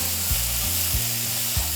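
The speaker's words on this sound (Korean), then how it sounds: "버섯이 약 3분간 거의 볶아지면" Mushrooms stir-fry in a hot pan, a steady bright sizzle running throughout, with a few soft scraping strokes of the spatula at regular intervals; no voices.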